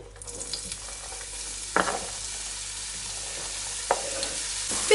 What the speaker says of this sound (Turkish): Yemeklik doğradığımız soğan, biber ve havucumuzu ısınmış yağa koyalım.